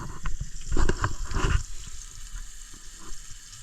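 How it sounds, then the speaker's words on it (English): Food sizzles and crackles in a pan at a campsite, with close, continuous frying and a louder burst of spitting oil early on before it settles into a steadier sizzle. "These don't really take long to cook at all."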